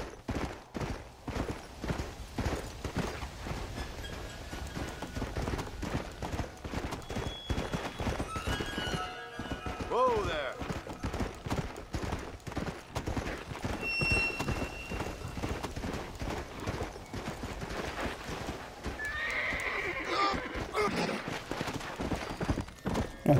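Horse hooves clip-clop steadily through the whole stretch in Red Dead Redemption: Undead Nightmare, with occasional neighs and whinnies rising over the rhythmic steps, close and continuous under game ambience.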